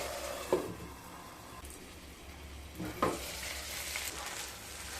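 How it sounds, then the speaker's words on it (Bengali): Spice paste sautéing on low heat for doodh potol, a soft steady sizzle with two sharper scrapes of a spoon stirring the pan, close and quiet with no voices. "আবারও লো স্টিমে মশলাগুলোকে খুব ভালো মতো কষিয়ে নিয়ে তারপর ফিরে আসছি"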